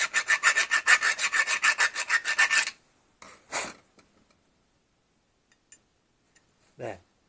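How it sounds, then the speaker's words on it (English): A small rat tail file scrapes metal on a Land Rover transmission brake part in a fast run of about twenty rhythmic rasping strokes, close and clear, followed by a few isolated scrapes and knocks. "I'm just going to get a little rat tail file, and we're going to open that out a little bit."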